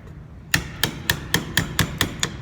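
A mallet strikes a somewhat dull chisel while cutting a wood joint, eight sharp, evenly spaced blows ringing out close and alone after a brief quiet start.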